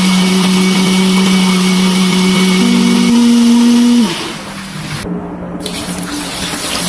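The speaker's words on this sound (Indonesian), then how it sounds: "Semuanya ini mau saya blender ya." A kitchen blender grinds shallots, garlic, turmeric, chili and water with a loud, steady motor whine that rises in pitch partway through. It then winds down and cuts off, leaving quieter background noise.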